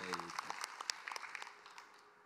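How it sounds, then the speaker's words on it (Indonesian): Scattered applause from a religious gathering honoring a teacher, fairly faint and thinning out as it goes, with a voice briefly at the start. "Tepuk tangan buat guru kita Habib Muhammad Syah."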